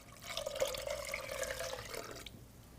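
Water, then beef broth, streams steadily into a large pot that has held browned, drained ground beef, a continuous gurgling pour lasting about two seconds before cutting off, close and alone with no talking.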